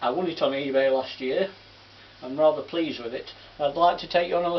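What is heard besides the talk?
No distinct noise like a dog, phone or traffic.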